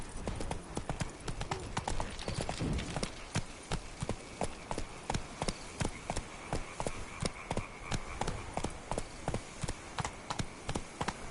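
Roach the horse gallops in the Witcher 3 Blood and Wine video game, giving a fast, steady clip-clop of hooves that runs throughout, close and prominent over a faint ambient background.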